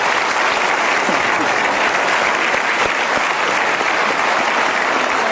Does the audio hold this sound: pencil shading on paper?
no